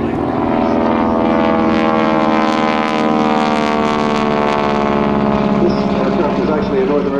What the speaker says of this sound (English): And Reese Dill in the T-6 Texan.